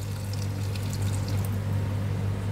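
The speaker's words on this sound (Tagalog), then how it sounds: "lagyan natin kunting tubig. Yung sabaw ito sa karne" Meat broth pours into a cooking pot in a steady, close splashing stream with a low hum underneath. No one speaks.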